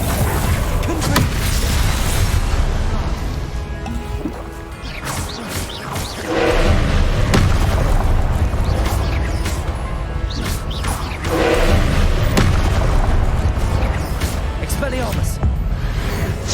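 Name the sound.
Confringo explosive spell blast, video game Hogwarts Legacy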